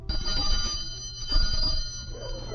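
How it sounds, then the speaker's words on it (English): A bell rings in a quick continuous trill, like a telephone bell, steady and fairly close for a couple of seconds with nothing else over it. "ringing a bell to call dogs"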